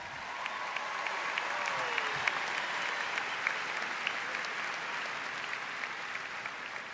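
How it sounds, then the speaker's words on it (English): Steady applause from a large crowd at a high school graduation, continuous and even throughout, with scattered sharper claps standing out from the dense patter. "Let's give a big round of applause for the top 20 academic graduates."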